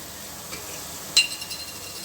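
Rice vermicelli noodle masala with spicy red chili sauce and coriander powder fries quietly in a pan. A soft, steady sizzle runs throughout, marked by one sharp metallic clink and a few light stirring taps.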